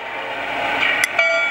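Lion Chief model NYC Niagara steam locomotive gives a short, steady electronic whistle tone over a constant hum, with a couple of brief clicks and a faint higher tone near the end.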